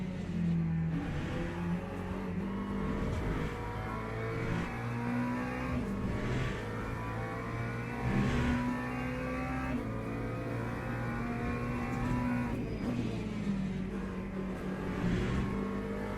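Race car engine in a driving simulator championship, revving in steady repeated climbs and drops as gears shift, loud and continuous throughout with no talking.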